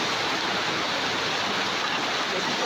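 Water pours and splashes steadily indoors inside a newly built house, falling like heavy rain through a leaking ceiling; a loud, continuous broadband rush with no talking.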